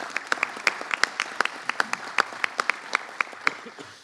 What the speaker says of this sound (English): Let's give a round of applause for Mayor Parker